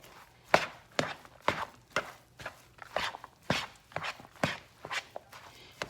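Thanksgiving dressing being mixed in a bowl makes a run of sharp, rhythmic scraping and thudding strokes, roughly two per second, close and moderately loud with no talk.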